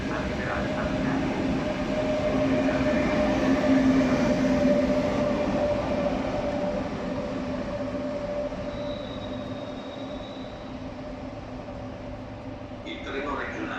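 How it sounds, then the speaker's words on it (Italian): A Trenitalia extraordinary express train rolls into a station platform with a steady rumble and a sustained wheel squeal. A station announcement voice plays over the train noise. "Il treno straordinario espresso 88407 di Trenitalia, proveniente da Torino Portanova e diretto a Lecce, delle ore 11:09, arriverà al binario."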